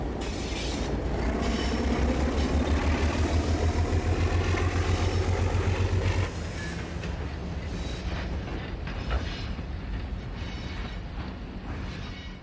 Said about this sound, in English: the short train is backed along an industrial spur